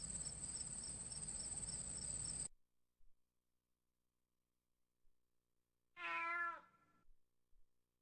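A cat meows in the CD-i video game Lost Sheep. A long buzzing, cricket-like game sound comes first, then after a silent gap a single clear, fairly loud meow.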